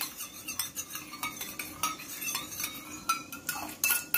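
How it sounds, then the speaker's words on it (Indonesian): A utensil stirs shrimp and squid wonton broth in a pot, a quiet run of scraping and clinking strokes against the metal with irregular rhythm, heard up close with no talking. "Nah, lalu ini kita mau aduk-aduk ini."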